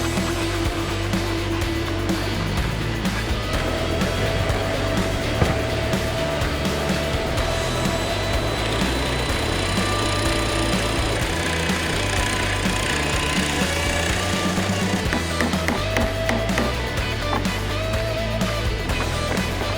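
Angle grinder carving a wooden cabinet door, a steady continuous whine and grinding rasp that holds through the whole stretch, loud and close with shifting pitch as the disc works the wood.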